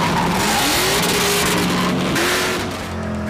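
A 1970 Chevelle SS454 high-performance engine revs loud and near, its rising and falling tones sweeping up under acceleration, with a tire squeal hint and a dip in intensity near the end.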